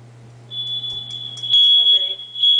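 A home smoke alarm emits a shrill, piercing high-pitched beep that starts after half a second and repeats, with a voice talking over it.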